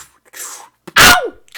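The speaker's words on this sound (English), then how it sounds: "He's sneezing on the keyboard." One sharp, loud sneeze up close, with a short breathy intake beforehand and a quick faint sound trailing after.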